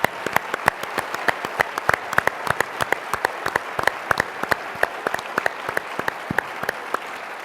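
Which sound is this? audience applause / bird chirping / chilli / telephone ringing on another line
audience applause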